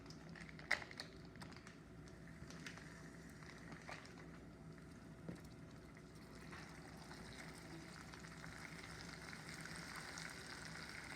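Butter added to hot salted caramel for an apple pie, crackling and sizzling steadily as it bubbles and melts in the pan, with a few sharp pops near the start and a constant soft frying hiss throughout.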